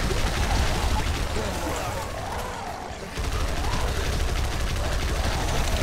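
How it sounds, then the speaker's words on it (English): Rapid submachine-gun fire rattles in dense bursts in a video game, loud and continuous with a short quieter lull partway, mixed with crashing game effects. "This SMG is terrible."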